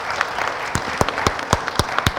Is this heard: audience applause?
yes